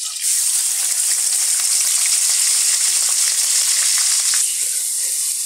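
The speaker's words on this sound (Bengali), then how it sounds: "এবার এই তেলের মধ্যে আমি প্রথমে পেঁয়াজ বাটাটা দিয়ে দিচ্ছি" Onion paste spits loudly in hot oil for a chicken roast, a dense, bright sizzle that stays steady and close throughout. It eases slightly near the end.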